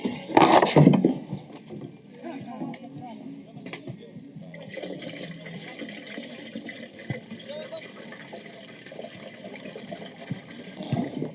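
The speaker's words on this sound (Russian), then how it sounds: "Налью сюда водички, потому что перед использованием здесь должно быть порядка 2 литров воды." Water pours into the tank of a CleverTech portable toilet, starting as a loud, splashy gush and then settling into a quieter steady trickle and fill sound, with someone talking over it.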